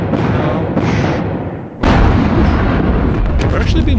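Mortar fire in the video game Squad Battles Eagles Strike: a heavy booming blast cuts in sharply after a quieter stretch, followed by rumbling and crackling, while a voice talks in the background.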